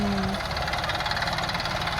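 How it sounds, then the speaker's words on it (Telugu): A tractor engine runs steadily while machine-planting a chilli field, a close, continuous low rumble with a pulsing beat and no talk. "ఇది మిషన్ కాబట్టి ట్రాక్టర్ కాబట్టి చక్కగా వేస్తుంది కదా"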